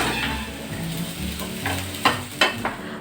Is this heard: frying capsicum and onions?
yes